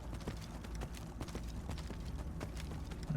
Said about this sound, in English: Just riding an undead horse